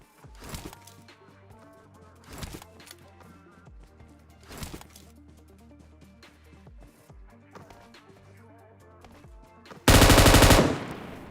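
An M249 machine gun in a video game, several spaced bursts of rapid fire over quiet background footsteps and game ambience, ending in a loud sustained burst.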